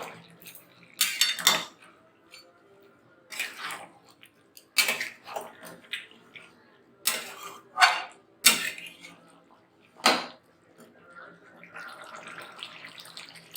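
Chicken kasha being stirred in a pan with slit green chillies, a series of loud separate scraping and clattering strokes of a spoon against metal, spaced by short quiet gaps.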